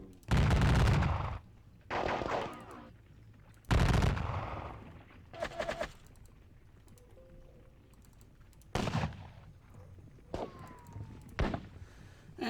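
Musket volleys in a Napoleonic battle video game depicting the Battle of Dennewitz: several loud, crackling bursts of massed gunfire at irregular intervals, with quieter scattered shots and a low background hum between them.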